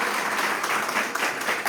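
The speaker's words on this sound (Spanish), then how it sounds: "Un aplauso, sí." An audience at an academic opening ceremony claps steadily, a dense, continuous patter of many hands, moderately loud and alone.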